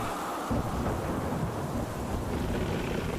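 A heavy thunderstorm with steady rain and gusting wind roars throughout, and a low rumble of thunder swells in after a moment, dense and continuous with no voices.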